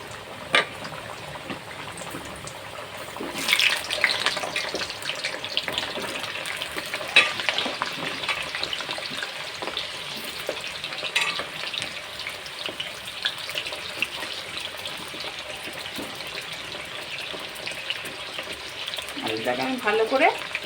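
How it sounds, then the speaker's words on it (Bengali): Potatoes shallow-fry one by one in hot oil, giving a continuous crackling sizzle with intermittent bursts and clatter as pieces are added and moved, and a brief voice toward the end. "আলুটাকে শ্যালো ফ্রাই করে নিই।"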